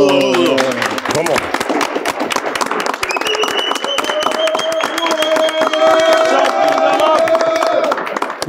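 A crowd applauding and cheering for Paris Saint-Germain after a European title win, loud continuous clapping with rhythmic claps and a rising chanted voice over it, close and energetic.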